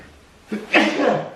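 A single sharp sneeze bursts out close by after a quiet moment, ending in a short breathy trail.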